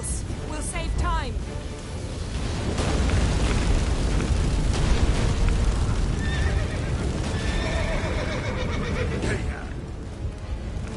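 Horse whinnying and hooves galloping in The Witcher 3, a loud neigh at the start over steady clip-clop and dense game battle noise with rumbling booms, continuous and close throughout.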